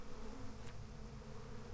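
Bees buzzing in Psychonauts 2, a continuous insect drone with a steady hum, faint and close, with a brief whoosh partway through and no speech.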